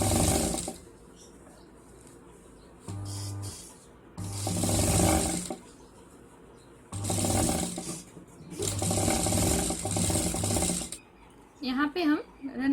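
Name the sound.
sewing machine stitching a homemade school bag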